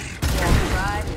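Gunfire in Gears Tactics: a sudden sharp burst of shots kicks in and rings on with metallic echoes and mechanical rattle, loud and close, with a voice speaking over it.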